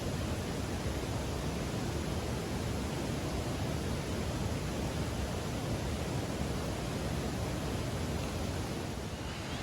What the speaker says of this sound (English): You can hear the Cross River in the background.